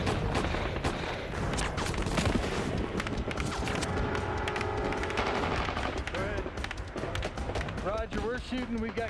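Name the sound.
gunfire in a war film battle scene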